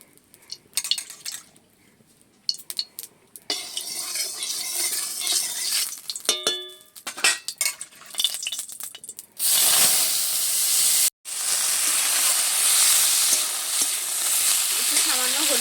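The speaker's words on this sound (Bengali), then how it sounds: "কুমড়ো শাক আর আলুটা ভেজে নেব।" Pumpkin greens and potato frying in hot mustard oil in a kadai: spatula stirring and scraping at first, then a loud steady sizzle and hiss that stays close and continuous, briefly cut off once before resuming.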